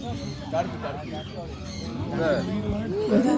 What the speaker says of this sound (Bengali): মুরগি বাচ্চা